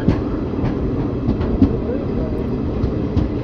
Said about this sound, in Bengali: সকাল প্রায় 8:30টার সময় ট্রেন আজিমগঞ্জ জংশন পৌঁছে গেছে।